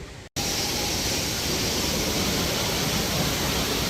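A waterfall in the Flight of Passage queue at Animal Kingdom roars as a steady, loud wash of falling water after a brief silent gap at the start.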